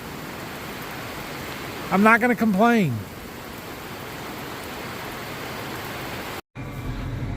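Rain falling steadily outside a farm shop, a continuous hiss of drops on surfaces that holds through the whole stretch, briefly overlaid by someone talking and cut by a short dropout near the end.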